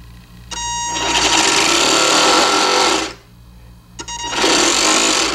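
Electric motor of an RC Liberty Ship model run by throttle on a lipo battery, a whirring hum that rises for about two seconds, drops off, then spins up again, close and loud.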